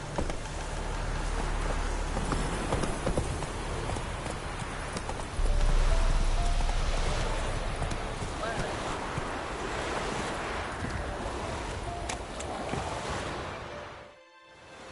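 Roach, the horse in The Witcher game, trots in a steady clip-clop of hooves over a continuous wash of ambient game noise resembling surf or rain, with a brief louder swell midway.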